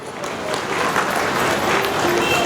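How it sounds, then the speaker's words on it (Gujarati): A crowd at a civic tree-guard and tree-planting event in Bhavnagar breaks into loud, steady clapping. Voices can be heard faintly under the applause. "આપણે સૌ તાળીઓના ગંજારોથી વધાવીએ."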